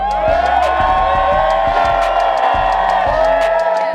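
A crowd of statehood demonstrators cheers and whoops outdoors, sustained loud crowd noise with bursts of shouting and some voices mixed in throughout.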